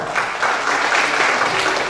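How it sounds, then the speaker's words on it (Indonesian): An audience applauds to welcome Pak Dimarwoto to the stage at a seminar session, a dense, steady wash of clapping from many hands that stays loud and even for the whole stretch with no speech over it. "kita sambut dengan tepuk tangan Pak Dimarwoto"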